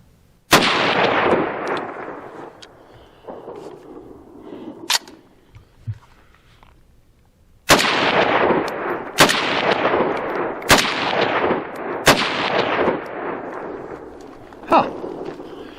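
A Ruger Mini rifle fires Tula ammunition outdoors with loud, sharp reports and long ringing decays: a single shot, then a pause, then four more shots in quick succession, and a fainter crack near the end.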